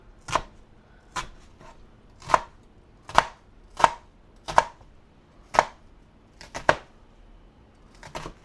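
Knife chopping half an onion on a cutting board, about ten crisp, evenly spaced chops close up, with brief pauses and no talk.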